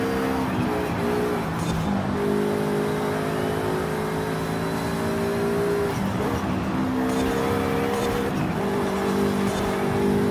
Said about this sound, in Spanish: desde adentro del auto le hace mucho más justicia al motor